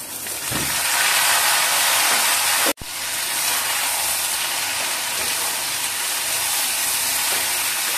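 Ridge gourd hitting hot oil in a frying pan with green chillies and fried potato, giving a loud, steady, broad hiss and sizzle that fills the clip, with one brief break partway through.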